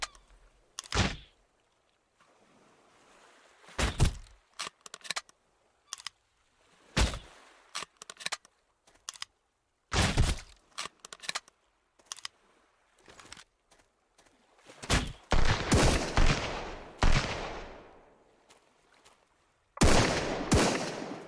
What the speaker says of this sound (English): We're gonna use the pistol like a shotgun, essentially.